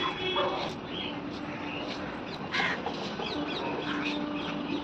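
Crows caw repeatedly over a dense, steady wash of outdoor noise after heavy rain, the calls overlapping and fairly close.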